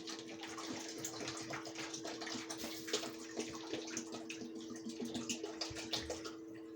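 A litre of liquid ingredient is poured into a stew pot, giving a steady, faint splashing and gurgling pour that runs unbroken for several seconds without voices.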